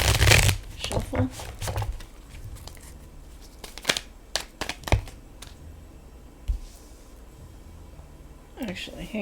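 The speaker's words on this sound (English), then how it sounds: "Let's do one more ruffle." Tarot cards are riffled and shuffled by hand in a few quick bursts of flapping, papery clicks, separated by pauses and softer handling, close to the listener, with faint talk in the background.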